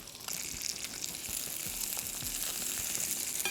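Butter and spices, with curry leaves and red chili, sizzle steadily in hot oil in a pan for a prawn curry, a close, continuous crackling fry that grows slightly louder with no talking.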